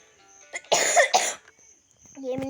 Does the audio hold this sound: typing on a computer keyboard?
no